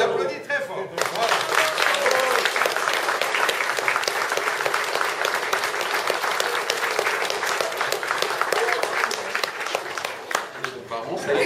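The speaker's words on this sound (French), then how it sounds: "Et elle applaudit très fort." Wedding guests in a reception hall break into loud, sustained applause, a dense wall of many hands clapping that starts abruptly and holds steady for about ten seconds before tapering off.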